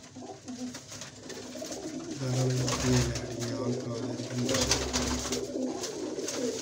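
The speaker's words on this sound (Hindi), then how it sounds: "ये चपड़ा कबूतर है जी" Chapda pigeons coo close by in a pigeon-keeper's loft, two or three deep, drawn-out rolling coos over steady background chatter and voices.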